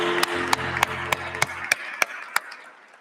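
Commencement audience applauding the Stockton University class of 2021 at a 2pm ceremony, with a steady bed of clapping cut by sharp, evenly spaced loud claps or taps that fade toward the end.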